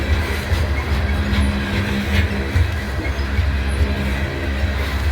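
A fully loaded coal train rolls past in Abbeville, a steady loud rumble of heavy cars with faint wheel clatter running the whole time and no pauses, the sound holding close and even.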